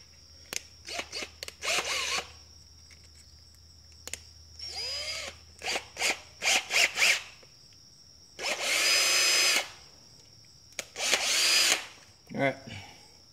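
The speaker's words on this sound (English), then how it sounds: "And in my case, I don't have a Dremel, so I gotta use a power drill." Power drill carving into rock, heard in repeated short whirring bursts with pauses between them, some bursts longer and louder as the bit grinds, over a faint steady background hum.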